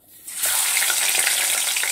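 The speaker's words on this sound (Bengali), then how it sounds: "মাছগুলোকে ভেজে নিচ্ছি বন্ধুরা।" Fish frying in a small amount of hot oil in a heated kadai: after a brief quiet start, a loud, dense, steady sizzle bursts up and holds evenly, close by with no talking.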